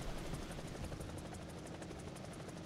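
A helicopter in a video game flies steadily with a dense, continuous rotor chop that stays loud throughout, with no voices over it.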